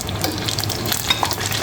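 Chicken pieces for sweet and sour chicken sizzling in hot oil on their second fry, a loud, close, continuous crackle with bursts of popping and a stirring scrape or two.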